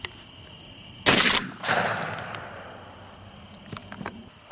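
A single sharp shotgun blast on a dove hunt, loud and close, followed by a short rumbling echo and a few small clicks and rustles against faint insect chirping outdoors.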